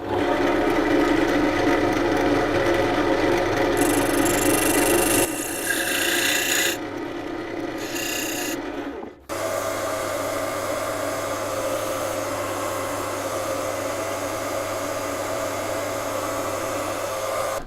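A walnut box is sanded up to 600 grit with a steady, close abrasive rubbing drone that shifts in tone midway, stops briefly, then carries on evenly to the end.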